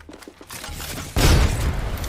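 A frag grenade going off in Apex Legends: a few faint clicks, then a sudden loud burst that lingers as a rumbling, crackling roar for the rest of the moment.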